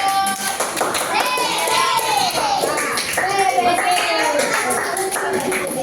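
Children in a fiqh class clap their hands together in a loud, sustained burst, with young voices calling out over the applause.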